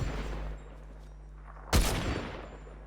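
A single sharp, loud sniper rifle shot rings out in the Fortnite video game, breaking a quiet low hum partway through and trailing off in a short decay.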